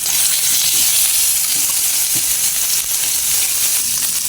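Garlic, ginger and white onion fry in a pan with a steady, bright sizzle and hiss that continues without break from start to finish.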